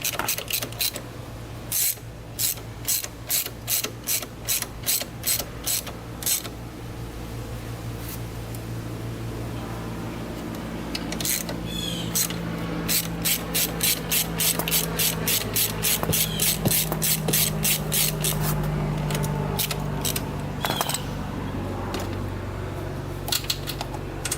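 A ratchet clicks in quick repeated runs while the chain is loosened on a junkyard Yamaha Blaster quad, the metallic ticking close and steady over a constant low hum, with pauses between bursts.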